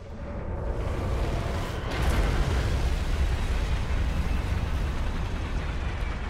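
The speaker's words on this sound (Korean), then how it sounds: "해치원나에서 폭발하잖아" A large explosion in the video game Armored Core 6, a deep rolling roar that swells and then holds as a dense, heavy rumble, loud and continuous to the end.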